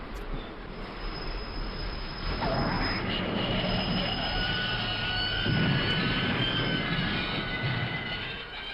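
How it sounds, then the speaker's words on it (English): Train brakes slam on as a train pulls into a station, a sustained loud metallic squeal and grinding of wheels on rails that swells midway and holds steady to the end, with no talk. "That would be the brakes slamming on."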